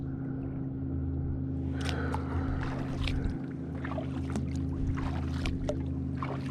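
Kayak paddling on moving water near Musgrave Point, soft rhythmic paddle splashes and drips over a low continuous hum of wind and water, with no voices.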